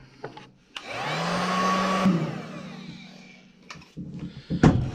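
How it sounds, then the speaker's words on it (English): Heat gun running on its low setting, shrinking heat shrink tubing on kerosene heater wiring: a steady blowing whoosh starts abruptly, holds loud for about two seconds, then tapers off, followed by a few brief clicks and knocks. "Whenever you're doing heat shrink, get yourself a heat gun."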